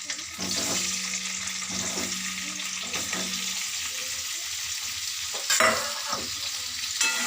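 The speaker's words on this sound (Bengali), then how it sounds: "এবার আমি কচুগুলো আগে ভেজে নিচ্ছি, তেলে দিলাম।" Taro pieces fry in hot oil with a steady sizzle throughout, broken by a few stirring clatters and a brief louder burst near the end; no one speaks.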